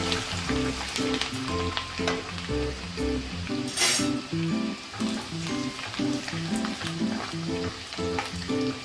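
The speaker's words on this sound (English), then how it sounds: "I'm going to saute them until they are very light golden brown." Chopped garlic sautés in a pan over a high flame with a steady sizzle, partly masked by rhythmic background music, and a brief louder hiss burst midway.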